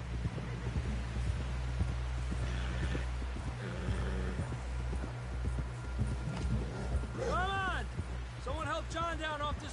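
Horse hooves gallop in a rhythmic clip-clop in a video game, steady and close for several seconds, with voices speaking over the final stretch.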